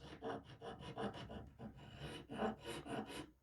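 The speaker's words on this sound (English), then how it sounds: "I'm going to start with a file and we'll go from there" Hand file rasping a wooden rifle stock on a No.4 Enfield under restoration, a steady run of close, quiet back-and-forth strokes at a quick even rhythm, with no voices.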